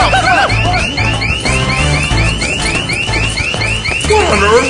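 An alarm set off by opening a door blares loud and close, with a rapidly repeating rising electronic whoop and people shouting over it.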